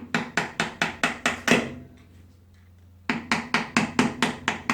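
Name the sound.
hammer whack on 4x4 transfer box part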